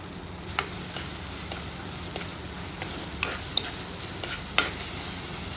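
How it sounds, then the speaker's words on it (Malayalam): Chopped tomato with turmeric, chilli powder and salt sautés in a pan: a soft, continuous sizzle with scattered light ticks and scrapes of a spoon stirring, fairly quiet and close, no talk. "ആവശ്യത്തിന് ഉപ്പും കൂടെ ചേർത്ത് കൊടുത്ത് വഴറ്റിയെടുക്കാം"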